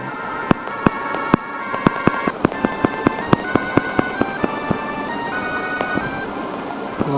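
An explosion sequence in the Game Boy Advance game Metroid Fusion, heard as a rapid string of sharp, loud bursts over steady tonal game music.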